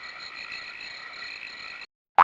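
Tiny young frog in the wild croaking in a steady, faint, continuous trill, then a brief silence followed by a louder, sharper croak at the end.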